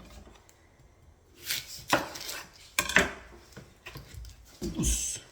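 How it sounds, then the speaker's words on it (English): A large onion being chopped with a knife on a cutting board, a few irregular close knocks and cuts separated by pauses. "let's chop the onion next."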